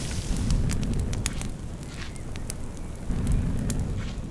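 Fire burning on a grill in BBQ Simulator: steady crackling roar with sharp pops and snaps scattered over a low rumble, swelling at the start and again near the end.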